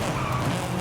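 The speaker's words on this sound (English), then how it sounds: "We're just going to drift through here." Tires of a 1994 Mazda MX-5 Miata squeal and skid in a steady screech while drifting in Forza Horizon 5, with engine noise underneath.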